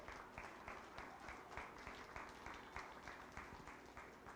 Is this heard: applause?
yes